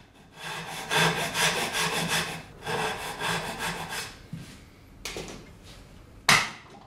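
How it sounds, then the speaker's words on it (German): A hand saw cuts an extra slot in wood while a Japanese double dovetail tenon joint is being made, with steady rasping strokes in two long bursts followed by a few short, sharp scrapes and knocks. "Ein zusätzlicher Sägeschnitt, etwa in Stemmeisenbreite, erleichtert das folgende Ausstemmen des Schlitzes."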